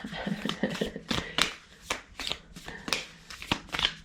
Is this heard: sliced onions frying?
no